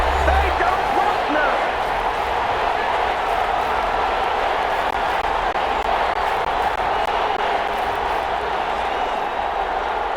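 Stadium crowd noise in Madden NFL 21 during an Eagles versus Falcons game ahead of a big third down: a steady, loud, broad roar of cheering fans that holds throughout without a break.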